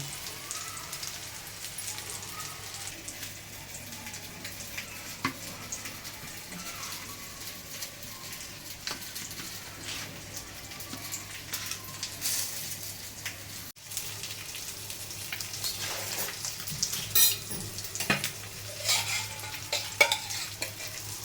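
Rava-coated bangda mackerel shallow frying in oil, a quiet continuous sizzle with occasional soft crackles and pops, growing livelier toward the end.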